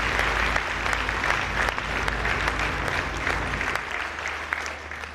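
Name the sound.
audience applause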